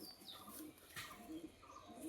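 An old pigeon in a loft gives soft, low coos, a few brief calls spread across the moment with faint chirps, quiet and close against a hushed background.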